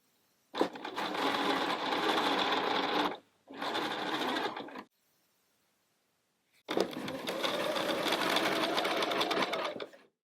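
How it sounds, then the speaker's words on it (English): A sewing machine stay stitches drapey fabric for a pair of pants in three loud, steady runs broken by short silences, with the last run the longest. "So let's stay stitch these guys."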